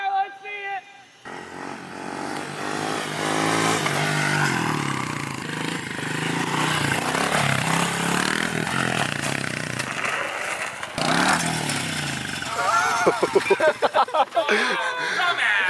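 Motorcycle engine revs hard and unevenly with rough, clattering mechanical noise as it throws a rod, then sputters out into choppy, broken sounds, with voices talking over it.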